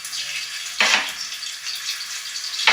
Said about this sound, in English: we're going to put all the small pieces of sausage inside the frying pan